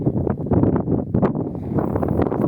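Gusty wind buffets the microphone in loud, uneven rumbling bursts with no voices, outdoors in open Ukrainian countryside.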